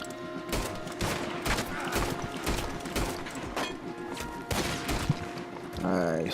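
Gunfire in Red Dead Redemption 2 rings out as repeated sharp shots at a steady pace over game ambience, fairly loud, followed by a mechanical ratcheting sound near the end.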